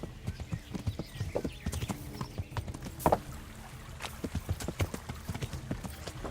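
Horse hooves clip-clopping at a steady riding gait in the medieval game Kingdom Come Deliverance, close and rhythmic, with a few louder knocks and faint background rumble.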